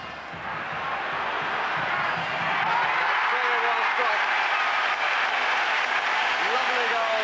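Applause and crowd noise from the Danish bench and home supporters at a Denmark v England football match in Idrætsparken, a broad steady roar of clapping that swells early and holds, with a commentator talking over it.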